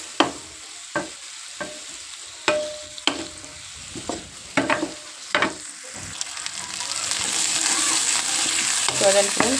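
Onions and green chillies frying in oil for a raw-banana curry, with close spatula scrapes and knocks against the pan, then a rising continuous sizzle that swells louder toward the end, no talking.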